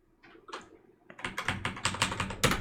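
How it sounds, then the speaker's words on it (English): Computer keyboard typing with a final Enter press: a few faint, isolated key taps at first, then a quick, dense run of close, crisp clicks that ends on a louder keystroke. "Let's press enter on this."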